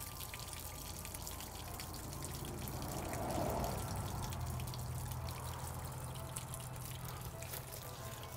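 Water draining out of an RV water heater tank, a steady low rushing trickle that continues the whole time, faint and even with no talk.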